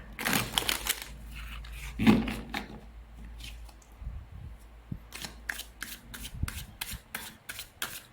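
Tarot cards being shuffled by hand, bursts of crisp riffling and rubbing scattered through the clip with quiet pauses between, close up and moderately soft.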